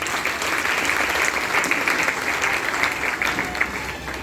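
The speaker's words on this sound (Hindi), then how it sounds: "एक बार जोरदार तालियां होनी चाहिए।" Loud, steady applause from an audience at a business gathering fills the whole stretch, dense overlapping clapping with no pauses.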